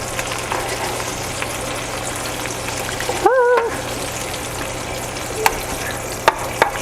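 Ground meat patties sizzle steadily in a pan that started cool, with a brief scrape and clatter as a double spatula flips one over, followed by a few light taps over the continuous frying.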